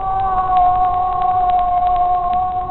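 Pilot whale song: steady high tonal calls held in sustained bands, with faint rhythmic clicks running through, moderately loud and alone.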